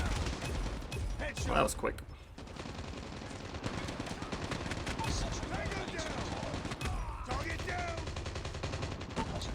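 Automatic gunfire in Call of Duty Mobile as practice AI bots are shot, rapid bursts of shots running through most of the clip, with a person talking over them.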